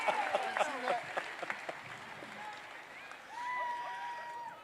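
Crowd applause and cheering at a Tennessee baseball championship parade downtown, a dense wash of clapping with bursts up front that settles into a steady roar, voices mixed in throughout.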